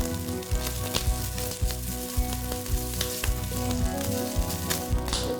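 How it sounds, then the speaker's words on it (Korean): Wood ear mushrooms stir-frying in a hot oiled pan with a little salt, a loud continuous sizzle with regular rhythmic knocks and scrapes of the utensil, close and without talk. "이제 프라이팬 달궈지면 기름 조금 두르고 목이버섯 넣고 볶을 건데요."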